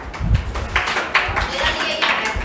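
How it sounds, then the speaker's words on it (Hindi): Students in a classroom clap together for a boy, a brief burst of scattered applause that stays fairly loud and busy with some talking mixed in. "ताली बजाओ इस लड़के के लिए"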